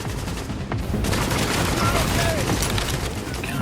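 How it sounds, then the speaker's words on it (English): Shotgun blasts ring out in The Division during a fight at the Madison Field Hospital, dense and continuous with overlapping gunfire and game effects, loud throughout with a voice talking over the combat. "Get some shotgun shots in on him while he's there."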